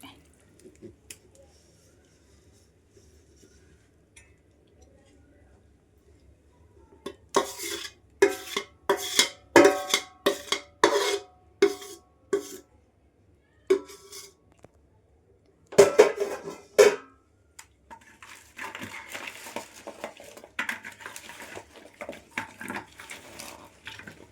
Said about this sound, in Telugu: మొత్తం పాకం అంతా అందులో పోసి కలిపేసుకోవాలి